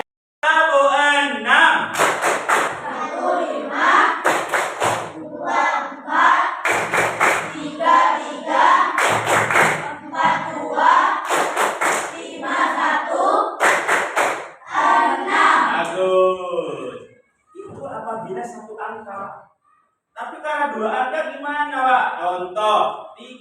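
Children in an Indonesian classroom clap hands in short counted bursts during a clapping game, each group of sharp, rhythmic claps sounding close and loud between stretches of a teacher's talking.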